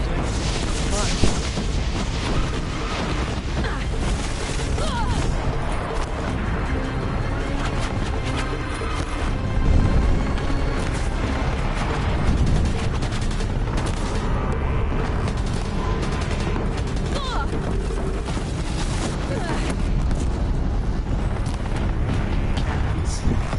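Dense, continuous booming blasts and rumbling explosions from combat in Horizon Zero Dawn, loud and sustained throughout, with occasional speech woven into the din.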